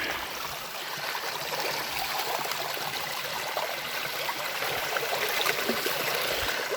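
Steady rushing and trickling of a creek running over rocks, continuous and fairly close, with no voices.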